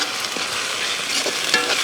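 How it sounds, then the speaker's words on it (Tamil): Tomatoes tip into onions and ginger garlic paste frying for a country chicken curry in a village kitchen, giving a loud, dense, continuous sizzle with a few stirring scrapes and no talk. "அடுத்து தக்காளி சேர்த்துக்கலாம்."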